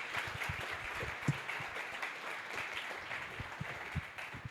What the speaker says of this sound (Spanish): Un aplauso para Sebastián.